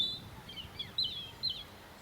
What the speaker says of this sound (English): Well, that's a robin, but the other one.